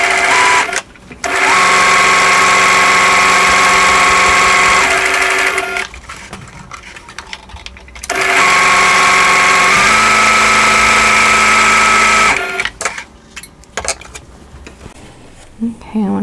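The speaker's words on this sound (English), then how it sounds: "And then stitch 1/4 inch away from the drawn line." Sewing machine stitching a quilt block a quarter inch from a drawn line, running in two long steady bursts of close, loud whirring with short pauses and handling noise between them.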